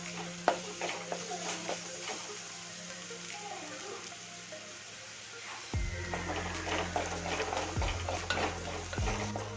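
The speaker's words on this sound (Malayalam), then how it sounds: "ഒരു table spoon ginger garlic paste ഇടാം. നന്നായി വഴറ്റി കൊടുക്കാം." Ginger garlic paste is sautéed with onions in a clay pot for chicken curry, with a soft sizzle under repeated scraping and tapping of a spoon against the pot, close by, while a voice talks over parts of it.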